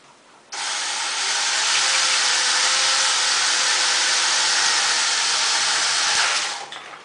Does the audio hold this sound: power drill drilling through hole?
yes